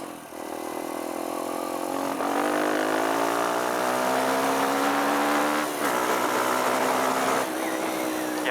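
A Kawasaki KLX140 dirt bike with newly installed carbs runs at about half throttle, its engine droning loud and close with a slowly rising pitch and slight unevenness as it sputters.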